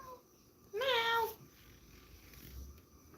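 A cat gives a single clear, rising meow up close, lasting about half a second, set against a quiet room hum.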